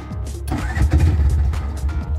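A Bajaj mototaxi engine cranks and catches, then settles into a close, steady low idle with a rumbling throb that continues to the end.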